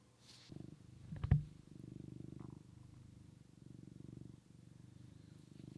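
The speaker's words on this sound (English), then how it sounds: "we got a cat purring" A cat purrs softly and close by in a steady, rhythmic low rumble, broken by a brief faint knock partway through.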